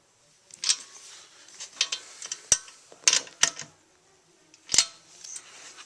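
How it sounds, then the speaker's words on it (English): A ratchet clicking in short bursts while torquing down the bolts of a Cipher Auto CPA1000 series racing seat bracket, with several sharp isolated clicks and quiet gaps between them, close and alone. "I'm going to just go ahead and torque everything down"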